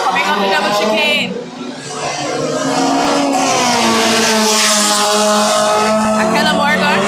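A race car at the JRDC Carnival of Speed 2025 takes a double chicane, its loud engine note rising and falling with the shifts. A commentator talks excitedly over it the whole time.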